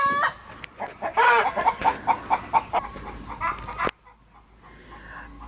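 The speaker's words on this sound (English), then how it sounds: "we were rudely interrupted by lots of roosters and chickens" Roosters crow and chickens cluck in a busy burst of repeated calls, fairly close, then cut off abruptly into quiet background.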